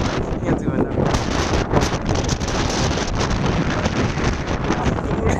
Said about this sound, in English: The wind is really strong, if I obviously can hear it